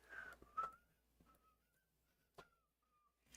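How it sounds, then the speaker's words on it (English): A person whistles a few thin, wavering notes, breathy and somewhat unsteady, with short gaps and small puffs of breath between them. "That's the best I can do for whistling."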